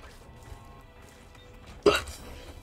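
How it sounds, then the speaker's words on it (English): A single short, sharp hiccup bursts out near the end in The Binding of Isaac video game, following a quiet stretch of low background sound. "Unpleasant hiccups."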